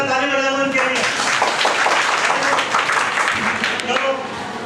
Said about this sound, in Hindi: बहुत अच्छा काम है, तुम्हें ताली बजाना उनके लिए।